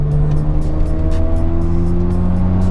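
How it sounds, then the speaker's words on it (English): A 1999 Mazda RX7 FD RS rotary engine holds a loud, steady, buzzing note at close range during a downshift into second gear, with no talking over it. "It revs so quickly again down into second gear."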